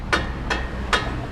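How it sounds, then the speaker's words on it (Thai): A big hammer strikes a car's upper control arm ball joint to knock it loose, four sharp metallic blows spaced evenly about every 0.4 seconds, close and loud over a low background hum. "เจอค้อนใหญ่ก็ออกนะฮะ"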